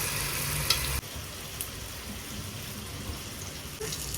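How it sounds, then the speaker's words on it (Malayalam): Battered banana fritters (pazhampori) frying in hot oil, a steady close bubbling sizzle that runs throughout, with a brief clunk near the start and no talking. "ഓരോ പഴങ്ങളായിട്ട് നമുക്ക് എണ്ണയിലിട്ട്"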